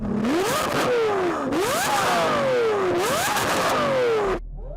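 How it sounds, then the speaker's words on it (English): A Lamborghini Aventador SV with a GV Performance aftermarket exhaust revs loudly and close up, rising and falling three times in quick sweeps before cutting off abruptly. "That GV Performance Gentani exhaust. Oh my God, it sounds amazing, doesn't it?"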